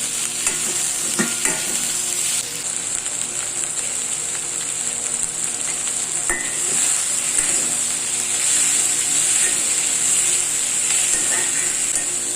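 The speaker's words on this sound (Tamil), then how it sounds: "தக்காளி வெங்காயம் வதக்கிட்டு பார்க்கலாம்." Tomato and onion sauté in a pan with a bright, steady sizzle, broken by the occasional scrape and clatter of stirring, heard close up.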